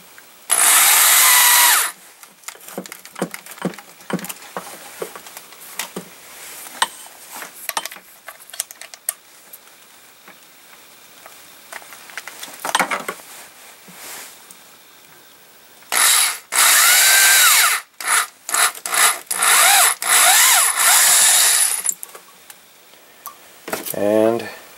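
Two loud, close bursts of a power drill whirring, separated by a long stretch of quieter scraping and clicking, with someone talking in between.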